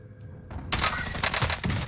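A sudden loud burst of video game gunfire erupts after a quiet moment and keeps up with rapid, sharp shots, with no talking over it.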